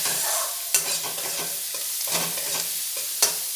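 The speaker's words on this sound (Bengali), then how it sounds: "দিয়ে পেঁয়াজটা একটু 1 মিনিট নাড়াচাড়া করে নেব" Finely chopped onion sizzles and fries in hot oil while a utensil stirs it, giving a steady crackle broken by a few sharp scraping clicks against the pan, close and clear with no talking.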